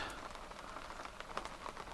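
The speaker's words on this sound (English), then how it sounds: "Been having on and off rain for hours." Rain patters onto calm water at a sheltered boat anchorage in Lady Boot Cove on the BC coast, a faint, soft, steady hiss with scattered light droplet taps.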